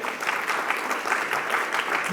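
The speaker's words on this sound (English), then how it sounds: "a big congratulations, applause for the first place" Audience applause for the first-prize winners at an award ceremony for a best paper prize in financial data science, a steady, dense wash of clapping that holds at an even level throughout.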